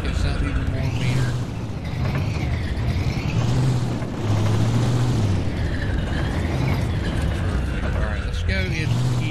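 A built V8 engine in a junkyard truck rumbles steadily up close, its low growl rising and falling in revs, with a person talking over it.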